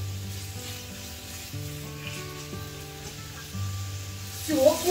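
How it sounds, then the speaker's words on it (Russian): Chicken sizzles steadily in a frying pan as it browns, with stirring scrapes and a louder flare near the end, while soft background music plays underneath. "Обжариваю до слегка золотистого цвета."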